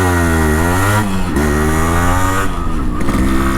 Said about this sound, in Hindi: चलो पहला लॉन्च करते हैं बाइक को।